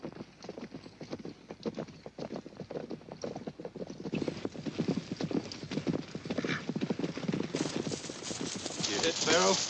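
Hooves clip-clop steadily as a horse approaches at a trot on a Western trail, growing louder and closer, with a whinny near the end and voices speaking over it.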